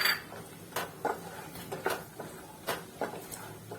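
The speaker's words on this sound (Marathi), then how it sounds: "आता आपण शेंगदाणे टाकून घेऊ।" Peanuts dropped into a pan with hot oil for rava upma: a quiet series of sharp clinks and rattles, about eight scattered hits spaced irregularly, close by in an otherwise still kitchen.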